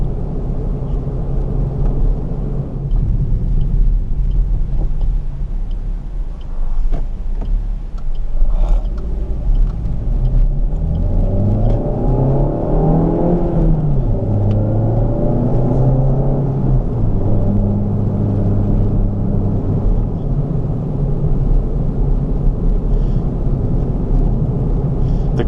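A 2018 Maruti Suzuki Swift Sport with a 1.4-litre Boosterjet turbo engine drives along. A steady cabin drone carries rising and falling engine notes as revs climb through the gears midway, with no talk over it.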